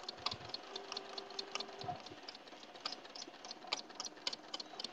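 A sewing machine quilting a log cabin baby quilt runs at a steady, even speed, a continuous close mechanical whir with rapid ticking stitches throughout.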